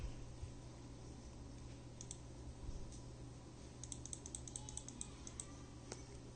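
Computer keyboard being typed on during a spreadsheet-style data entry session, sparse light key clicks in small clusters over a low steady background hum, faint and close.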